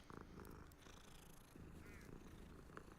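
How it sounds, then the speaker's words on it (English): A cat purrs in a wizard video game, a close, continuous rhythmic purr with a few soft clicks, very quiet overall. "The purring sounds are on point."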